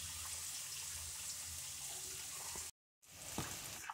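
Lota fish stirred and frying in a pan, a steady close sizzle that cuts out briefly near the end, then resumes with light stirring scrapes.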